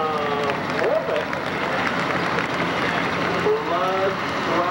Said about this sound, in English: Let's give a round of applause to Morpeth